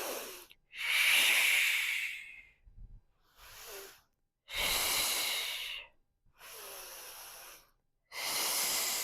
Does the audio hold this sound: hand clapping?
no